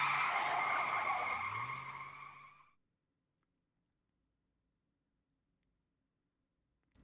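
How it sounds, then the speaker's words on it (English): Taxi tires squealing as the cab rounds a corner in 428 Shibuya Scramble, a loud sustained screech lasting nearly three seconds before fading into silence. "The taxi's tires squealed as the cab rounded a corner."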